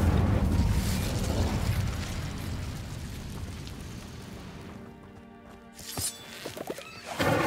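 An Incendio fire spell bursts out in Hogwarts Legacy with a loud roaring, explosive whoosh that slowly fades, followed by a few sharp crackles and pops.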